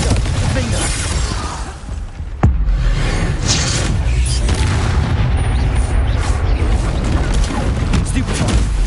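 Blasting spell explosions in the Hogwarts Legacy video game, a steady roar of booming bursts and shattering debris with one sharp crack partway through, loud and dense, layered under shouted spell names.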